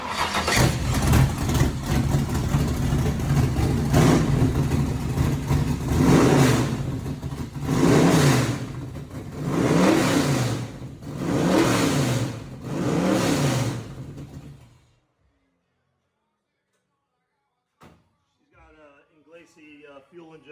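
A 1927 Ford Model T all-steel rat rod fitted with a fuel-injected Chevy engine revs hard in loud repeated surges for about fifteen seconds, then cuts to silence before brief faint sounds near the end.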